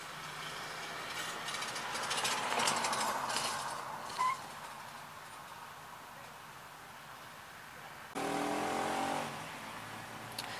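A carburetor Volkswagen Voyage stalled on the street, its engine cranking and revving as it struggles to start, with bursts of mid-range noise rising and falling and a short loud surge near the end.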